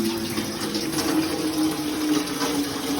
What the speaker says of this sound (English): And then we just turn the spout on for as much water as we need.